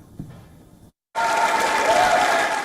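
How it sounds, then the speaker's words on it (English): A round of applause greets newly elected lawmakers in the Quebec National Assembly chamber. Steady, dense clapping from a large room bursts in after a brief silence and continues loudly. "A group of newly elected lawmakers were welcomed to the Assembly of Quebec with a round of applause"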